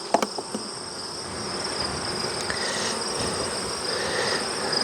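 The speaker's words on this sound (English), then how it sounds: "there's bees all over the bottom of it too" Dense, steady buzzing of honey bees swarming around a hive, a continuous close drone with a few faint knocks near the start and no talking.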